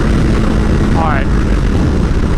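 A 2015 Honda CBR1000RR Fireblade motorcycle engine gives a quick burst of acceleration, its rising whine buried under loud, constant wind roar.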